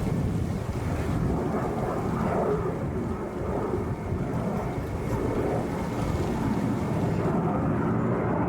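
Sukhoi Su-57 fighter jet performing at an air show in China, a continuous broad roar heard from a distance, steady and fairly loud, mixed with wind buffeting on the microphone and no voices.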